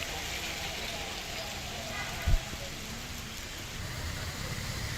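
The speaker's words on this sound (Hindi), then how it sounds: "ये 3 तस्वीर आप देखिए, हर तरफ बारिश ही बारिश।" Steady rain pours down outdoors as a dense, continuous hiss, with a brief low thump partway through and a faint passing vehicle in the background.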